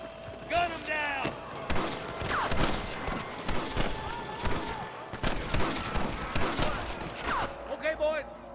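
Gunfire in Red Dead Redemption on PS5, a rapid volley of shots crackling over busy game music and sound effects, with a voice calling out amid the shooting.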